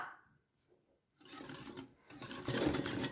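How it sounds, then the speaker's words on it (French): Sugar whisked by hand in a bowl for a no-bake apple cake, quiet at first, then a rapid scratchy whisking that grows louder over about two seconds, close up and with no talk. "Et puis, nous allons fouetter."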